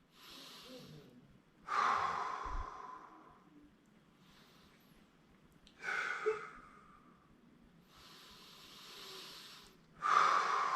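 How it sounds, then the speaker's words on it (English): Slow, deep breaths drawn in and let out during a relaxation exercise, three long airy exhales spaced several seconds apart, close and clear with quiet gaps between. "And breathe it out."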